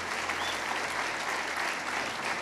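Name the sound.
church congregation applause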